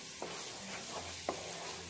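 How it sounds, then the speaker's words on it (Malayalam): Milk mysore pak mixture of milk powder and ghee being stirred in a pan, giving soft, sparse scraping strokes over a faint steady sizzle, with no talking. "ഈ ചട്ടിയിൽ നിന്ന് വിട്ടുവരുന്നത് വരെ നന്നായി ഇളക്കി കൊടുക്കാം."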